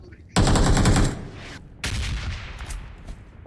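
Gunfire in PUBG Mobile comes as two loud automatic bursts: a sharp spray lasting under a second, then after a short gap a longer, rougher burst that trails off.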